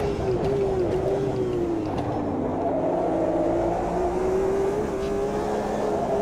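A JGTC race car in the Automobilista 2 racing game drones with a steady engine tone that dips under braking then climbs again as it accelerates, moderately loud under a constant background rumble, with no talk.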